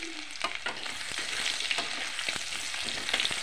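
Chopped garlic fries and is stirred in a pan, giving a steady close sizzle broken by repeated scraping stirs, with no talking.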